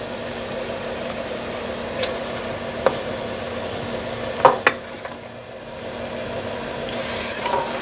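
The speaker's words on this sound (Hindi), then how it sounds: "अब इसको तब तक भुनेंगे जब तक कि गोश्त का कलर जो है ना गोश्त का वो अच्छे से चेंज हो जाए" Meat browning with bay leaves, black cardamom and cinnamon in a pot for haleem, a soft continuous sizzle broken by a few sharp clinks of a spoon against the pot, no talking.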